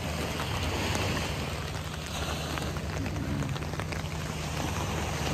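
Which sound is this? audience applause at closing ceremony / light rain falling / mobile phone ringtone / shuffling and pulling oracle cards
light rain falling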